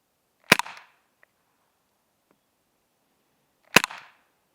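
Two sharp, loud gunshots fired at targets during outdoor target shooting, spaced about three seconds apart with quiet between them.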